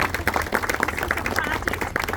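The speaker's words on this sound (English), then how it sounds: "Let's just give them a round of applause." Audience at a community meeting clapping in a round of applause, individual claps distinct and rhythmic, fairly close and steady for a couple of seconds.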